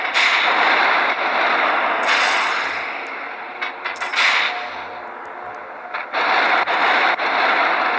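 Continuous rattling aircraft machine-gun fire and engine drone in the SkySmash 1918 biplane game, dense and loud throughout with brief bursts of higher crackle layered on top.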